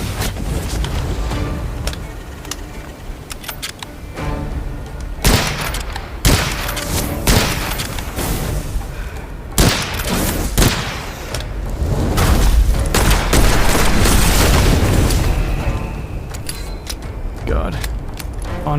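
Musket volleys in the Witchfire shooter game crack out in scattered bursts with booming impacts and mechanical clatter, loud and dense across the whole stretch, while a man reacts in speech over the gunfire.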